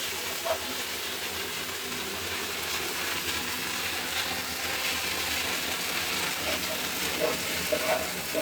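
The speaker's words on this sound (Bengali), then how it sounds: "এবার এটাকে সুন্দর করে নাড়াচাড়া করে একদম ভাজা ভাজা করে নেব।" Spiced food with coriander powder being stirred and fried in a pan, a steady dense sizzle running throughout with scattered scraping clicks from the utensil, close and even in level.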